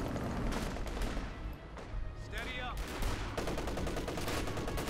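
Machine gun fire in Company of Heroes 2: Ardennes Assault, with rapid rattling bursts of gunfire over a dense battlefield din, briefly easing before the shooting picks up again.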